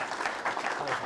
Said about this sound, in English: Please give him a big warm round of applause